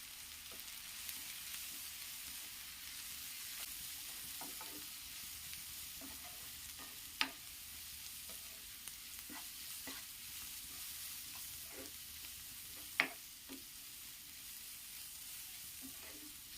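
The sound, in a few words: shallots and spices sautéed and stirred in a pan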